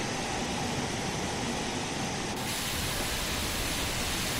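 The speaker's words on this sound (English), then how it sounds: "apply a bit of power to try and shut up that safety valve" Steam locomotive safety valve blowing off in the Train Sim World 3 game on the Midland Main Line, a loud continuous roaring hiss that holds steady throughout.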